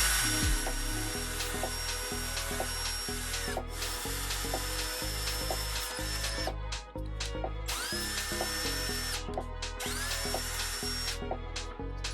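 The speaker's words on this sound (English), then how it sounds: "I'm gonna just drill in between these 2 holes so that the nut and bolt will fit" A power drill whirs steadily, boring between two holes in a diesel heater pump mount, in several long runs, its motor pitch dipping under load between brief pauses, close and loud.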